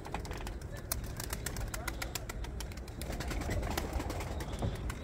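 Pigeons coo in soft repeated calls amid a busy outdoor backdrop of chirps and clicks, with a low engine-like rumble underneath.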